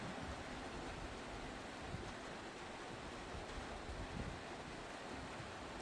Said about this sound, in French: Toujours pas mal de vent en montagne.